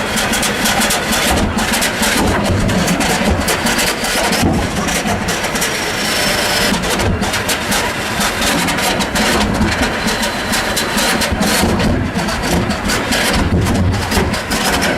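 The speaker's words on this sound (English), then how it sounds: "A low, pulsating rumble that shakes the earth, this engine's rhythm is as mighty as its dimensions suggest." A large, slow-running Lister FR4 engine at only about 400 RPM, restored from a corroded submerged wreck, thunders continuously with a deep, steady pulsating rumble, loud and close throughout.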